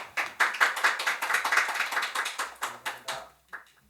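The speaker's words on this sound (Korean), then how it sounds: "우리 선교사님 나오실 때 큰 박수로 환영하겠습니다" A church congregation claps to welcome a missionary to the front during a Sunday worship service: a steady run of fairly even, rhythmic claps that swells, thins out near the end and stops, with no voices over it.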